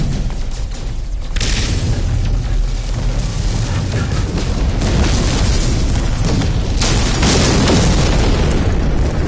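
Spaceship weapon fire and explosions in the No Man's Sky video game form a loud, continuous wall of booming blasts and rumbling bursts that keep going without a break.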